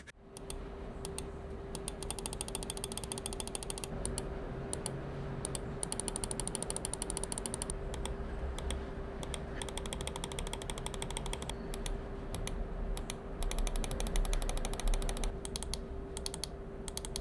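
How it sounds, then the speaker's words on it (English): Scroll wheel of a Zowie FK2-DW gaming mouse clicking in rapid ratcheting bursts, close and fairly quiet over a steady background hum, with no talking. "even though the Zowie scroll wheel sounds like crap"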